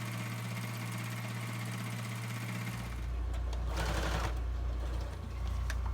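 Sewing machine straight-stitching fabric for a junk journal, a steady close mechanical whir and hum that shifts to a deeper, louder drone partway through, with a brief rustle of fabric.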